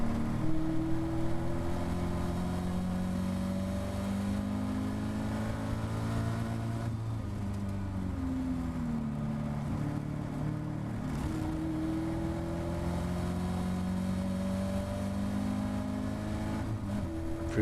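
A Caterham Academy race car engine drones loudly and continuously at Donington Park, its pitch rising and dropping through gear changes and braking in an onboard view.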